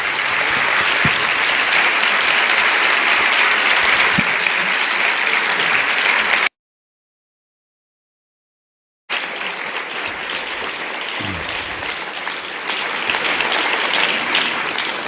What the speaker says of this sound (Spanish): le damos un aplauso a Sergi.